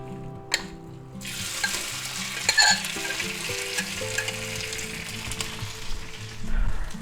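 Marinated beef strips sizzle steadily in a hot pan, a continuous broadband hiss with a few stirring scrapes and clinks, close and fairly loud, with music playing underneath and no talk.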